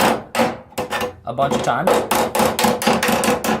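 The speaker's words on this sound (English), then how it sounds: "I'm going to get another like, claw hammer and just go like this" A rapid series of sharp metallic claw hammer strikes flattening metal on a Volkswagen Bay Window Westfalia body panel, loud and close, with someone speaking briefly before the blows begin.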